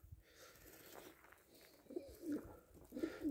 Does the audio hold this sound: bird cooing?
yes